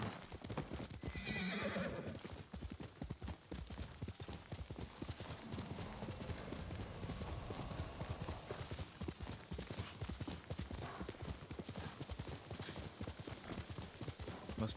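In the video game Ghost of Tsushima, a horse gallops with fast, continuous hoofbeats and lets out a whinny near the start, all fairly close and alone with no talk.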